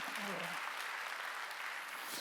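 Congregation clapping at a church worship service, a steady dense wash of applause throughout, loud and close, with a brief voice rising over the start.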